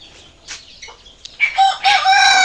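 Hens cluck and cackle near their eggs, one black hen settling onto them. The sparse clucks grow into loud, sustained cackling close by.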